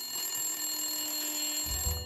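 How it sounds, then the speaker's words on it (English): An in-game telephone rings in the noir adventure game Blacksad: Under The Skin, a steady bell-like tone held through the whole moment over a constant background hum, with a low thud near the end. "Get the phone, Blacksad. Come on. Get the phone, bro."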